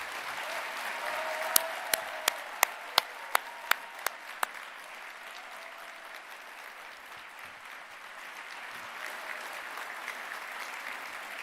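Graduation ceremony audience at the University of Stirling's winter graduation clapping in a sustained, dense wash of applause, with a few sharp loud claps standing out near the start before the clapping settles into a steady roar.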